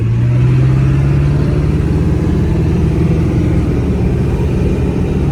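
A repaired car's engine droning steadily on its first test drive, a loud close hum with a rising tone early on and constant road rumble throughout, no talk.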